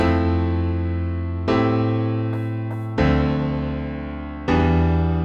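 Four sustained, rich extended seventh chords ring out one after another at an even pace, each struck cleanly and left to decay before the next.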